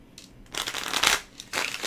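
Tarot cards are shuffled close by in two uneven bursts of rustling and flapping, with a short pause between them.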